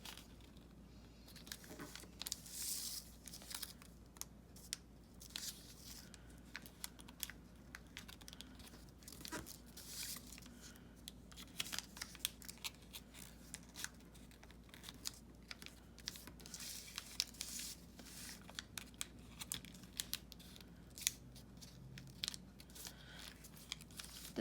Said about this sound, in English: And you're going to fold the corners in again.